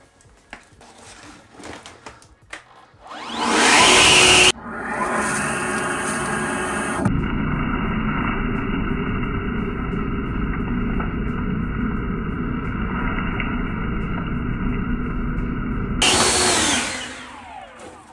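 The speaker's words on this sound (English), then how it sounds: "the fastest way to get this thing cleaned out is just to use a leaf blower." A loud, steady leaf blower blowing out a dryer vent roars continuously for over ten seconds, a broadband rushing drone with a low hum beneath, starting and stopping abruptly.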